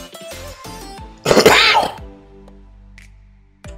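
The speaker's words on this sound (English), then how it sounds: "Excuse me for coughing like that." A person coughs harshly in a short throaty burst between spoken words, close and loud, with talk before and after.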